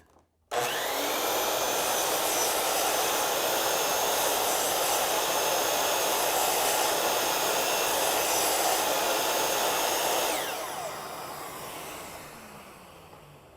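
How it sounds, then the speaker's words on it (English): A miter saw makes a partial-depth dado cut. The motor starts abruptly and holds a loud, steady whine with the blade grinding through wood for about ten seconds, then spins down and fades. "We can use that function for making dados on your miter saw."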